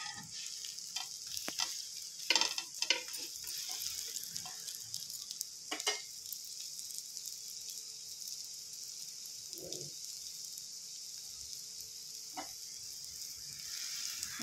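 Egg dosa frying in a generous layer of oil on a pan, a soft steady sizzle with occasional louder crackles and clinks, close and moderately quiet, no talking.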